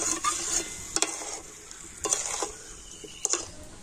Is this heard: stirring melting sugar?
yes